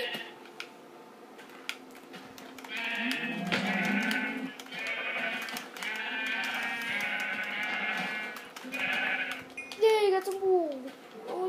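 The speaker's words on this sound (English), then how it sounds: "Yay, a sheep!" A sheep in the Minecraft video game bleats repeatedly, with loud wavering bleats heard close, mixed with a voice talking and game sounds.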